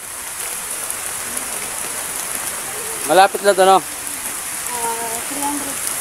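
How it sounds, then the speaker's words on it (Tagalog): Steady rain falls around an outdoor walk on the way to a mud spring in Los Baños, Laguna, a continuous hiss that runs the whole time, with a few people briefly talking over it midway. "ulan."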